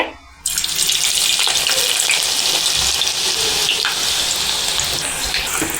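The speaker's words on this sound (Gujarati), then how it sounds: "આપણું તેલ ગરમ થઈ ગયું છે, તો હવે આપણે તેમાં કારેલાને નાખી દઈશું તળવા માટે." Bitter gourd slices hit hot oil and a loud, steady sizzle bursts in after a brief quiet start, continuing close and unbroken to the end.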